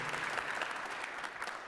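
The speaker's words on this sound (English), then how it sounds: "Could we give her a quick round of applause?" A band concert crowd gives a short burst of steady applause that sounds faint and distant.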